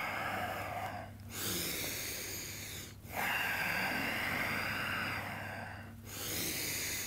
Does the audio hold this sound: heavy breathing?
yes